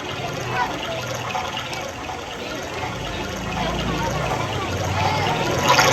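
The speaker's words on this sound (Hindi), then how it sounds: "ये तो जल की ध्वनि का पता चलता है। लगता है यहीं कहीं पास में पानी का तालाब है।" Water sloshes and flows at a nearby pond during an outdoor Ram Leela stage performance, a continuous wash of liquid noise that slowly grows louder.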